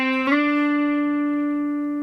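Electric guitar note slides into place and then rings out steadily with rich harmonics, slowly fading over about two seconds, heard alone.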